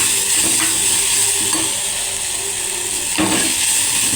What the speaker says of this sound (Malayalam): നമ്മൾ ഉള്ളി വാടിക്കൊണ്ടിരിക്കുന്നുണ്ട്.